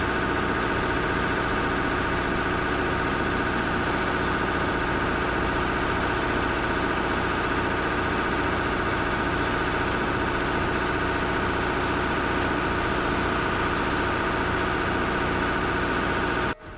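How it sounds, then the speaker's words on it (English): Two bulldozers locked in a tug of war, their heavy diesel engines droning steadily and loudly throughout with a constant low rumble, no talk. "two bulldozers lock into an epic tug of war. Engines scream, metal grinds."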